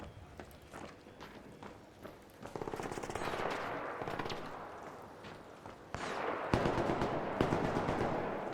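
Gunfire in the video game ARC Raiders, with rapid automatic bursts and scattered shots over footstep-like patter and game ambience, growing louder toward the end with no talk.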